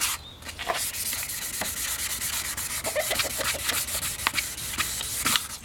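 Steady abrasive rubbing of sandpaper over a plastic car headlight lens, continuous back-and-forth strokes with occasional scratchy accents, close and moderately loud.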